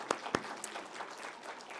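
A church congregation breaks into brief applause, opening with a few distinct claps before a soft, diffuse patter of hands that lasts under two seconds.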